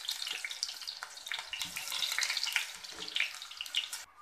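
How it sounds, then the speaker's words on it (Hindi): Sliced onions fry in hot oil in a pan, giving a steady, close, crackling sizzle that runs the whole time with no talk over it. "प्याज को स्लाइस में कट कर लिया है। अब हम इसे फ्राई करेंगे।"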